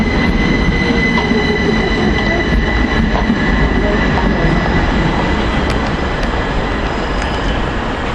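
An eight-coach train runs through Denmark Hill station with a loud, steady rumble of wheels on rails and faint high wheel squeals on top, close and continuous, with no speech.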